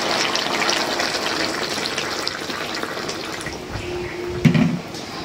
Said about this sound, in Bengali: এখন একটু ঝোলের পানি দিয়ে দিই।